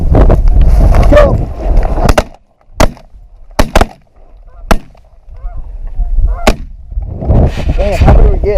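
Shotgun blasts ring out during a goose hunt, about six loud, sharp reports spaced across several seconds, mixed with honking geese and people talking nearby.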